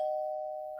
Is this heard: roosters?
no